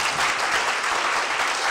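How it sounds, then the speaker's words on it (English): A smattering of audience applause at a talk: a brief, even patter of clapping that lasts under two seconds, with no voices over it. "There was a smattering of applause."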